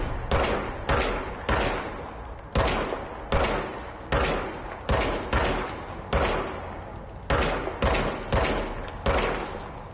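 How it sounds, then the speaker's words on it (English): Machine gun fire in the video game Control comes in a steady string of short, loud, punchy bursts, about ten over the span, each with a sharp attack and quick decay. "Now I have a machine gun."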